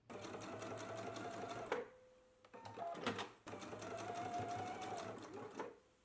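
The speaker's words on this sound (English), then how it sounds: "Let's go ahead and do a basting stitch now to baste and hold these raw edges together." A sewing machine runs a basting stitch in fast, even bursts along fabric edges, stopping briefly twice between runs, close and fairly quiet.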